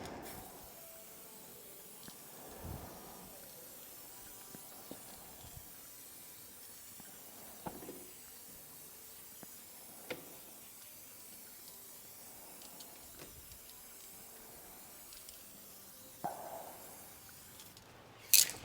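A spray gun lays coats of blue paint on a Peterbilt 359 truck under restoration, a soft continuous hiss broken by short bursts and clicks, fairly faint and without talking.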